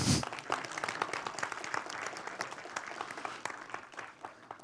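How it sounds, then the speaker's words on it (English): A tech conference audience applauds a child volunteer called up on stage, with a sustained, even round of crowd clapping that stays moderately loud throughout after a brief thump at the start. "Big applause for my son here"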